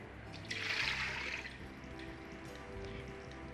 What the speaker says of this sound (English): Pour in 700 ml of water.